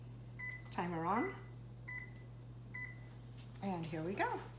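An oven timer switched on while a Puerto Rican style pumpkin pie bakes gives three short, high electronic beeps spaced about a second apart, heard under and between a person talking nearby.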